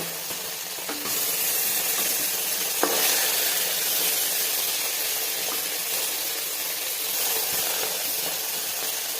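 Steady crackling sizzle of small tampudi fish frying in hot oil, loud and continuous, with a brief sharp clink partway through and no talking.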